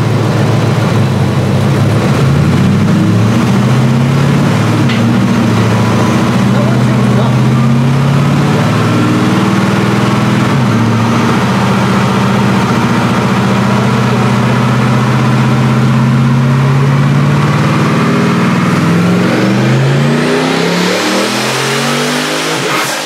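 Twin turbo 2012 Harley Davidson F-150 pickup engine in a dyno pull, loud sustained revving that climbs steadily in pitch for about twenty seconds, then falls off sharply as the throttle closes.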